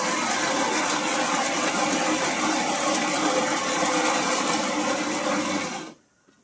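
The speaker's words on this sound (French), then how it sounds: "Donc là la machine elle broie le café, elle va faire une pré-infusion." A bean-to-cup coffee machine grinds coffee beans with a loud, steady, whirring buzz, close up and unbroken for about six seconds before stopping abruptly into quiet.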